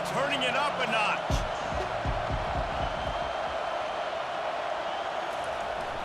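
A stadium crowd in EA Sports College Football 25 roars in a dense, sustained wash of cheering, with a few low thumps early on. The roar stays steady and loud throughout.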